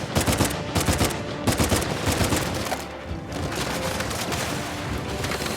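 Rapid gunfire in the video game Uncharted 4, with three-round bursts of shots repeating in quick clusters over a noisy battle background, loud and close.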